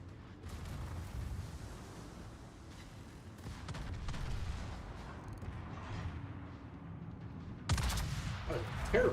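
Battleship main guns firing in World of Warships: booming blasts over a steady low rumble of naval combat, with a louder burst of salvos near the end and faint talking underneath.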